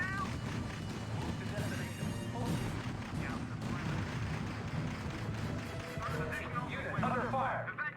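Distant artillery and gunfire in the strategy game R.U.S.E., a low rumbling battle bed with scattered thuds and cracks running throughout, partly under radio-style voice reports.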